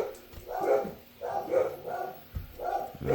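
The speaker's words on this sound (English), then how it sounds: "I don't know why they're barking." Several dogs barking at home in bursts, a few loud yapping barks spaced through the moment with short pauses between, moderately close and with no talk over them.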